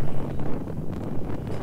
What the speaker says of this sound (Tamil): செம காற்று